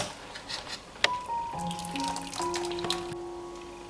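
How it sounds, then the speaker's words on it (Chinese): Boiled orange peel is scooped out into a bowl of cold water. Close splashing and trickling sit beside a sharp clink and a few ringing tones, with no talking. "这时候就可以捞出来了，捞到冷水中"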